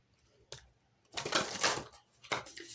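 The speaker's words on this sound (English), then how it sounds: "And one more shuffle." Tarot cards being shuffled close up: a quick riffle, a longer papery ruffling burst, then another short flutter, soft and near with no speech.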